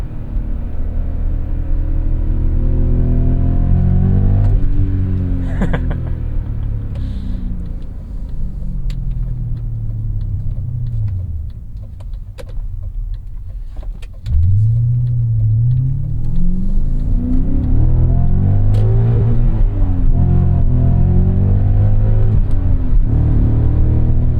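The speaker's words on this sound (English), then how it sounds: "This engine is just intoxicating. Naturally aspirated V8 growl." A naturally aspirated V8 engine in a 2001 BMW M5 (E39) revs up and down repeatedly, its deep growl swelling, dropping away, then climbing again, loud and close from inside the car.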